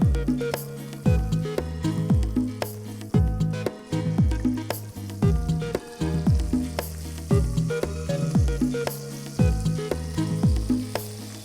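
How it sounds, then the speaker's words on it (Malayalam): Chicken pieces fry in butter in a pan for a Kerala-style cookery show, a steady loud sizzle broken by repeated stirring scrapes and clatters at a regular rhythm, close up with no talking. "ഇട്ടേച്ച് നമുക്ക് ഈ കഷ്ണം ഉണ്ടല്ലോ ഓരോന്നായിട്ട് ഒന്ന് ബ്രൗൺ ആക്കി വറുത്തെടുത്താൽ മതി"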